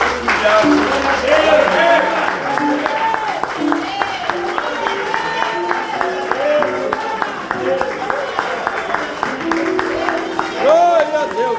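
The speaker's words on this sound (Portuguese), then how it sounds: "Uma grande salva de palmas para Jesus." A congregation at a church worship service applauds with a dense, continuous patter of hand claps that runs the whole time, mixed with loud voices and singing.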